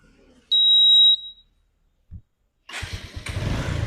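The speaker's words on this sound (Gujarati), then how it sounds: "ગાડી એક સેલ્ફ જ ચાલુ થઈ જાય" Self-starter whine followed by a motorcycle engine catching and settling into a low, uneven idle, with a sharp electronic beep earlier and a brief thump before the engine sound begins.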